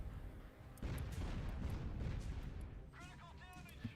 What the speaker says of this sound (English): I like that Thor bombing run.